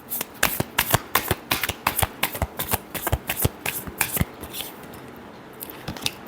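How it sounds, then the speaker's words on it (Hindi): Tarot cards are shuffled by hand in a quick run of crisp, papery flicks and slaps, close and steady for several seconds before thinning out to a few last taps. "Last shuffle."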